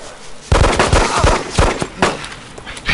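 Sharp gunshots in the video game DayZ crack in quick bursts, several loud shots spaced irregularly across a few seconds with a busy background.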